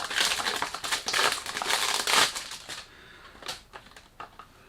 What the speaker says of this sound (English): Sorry about the noise. When you do unboxing, you can't do much.